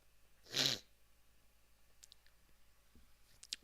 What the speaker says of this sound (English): Sorry, I've had the sniffles all night now.